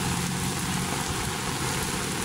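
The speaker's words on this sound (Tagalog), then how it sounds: "Saturday na maulan." Rain pours steadily at Manila Bay on a wet afternoon, a close, dense and unbroken wash of drops on surfaces with no talking over it.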